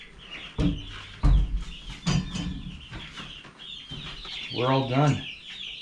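Backyard chickens, grown from chicks, clucking close by in soft, uneven bursts with a drawn-out squawk near the end, while a person talks quietly over them.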